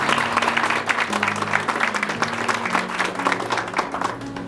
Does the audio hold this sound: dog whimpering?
no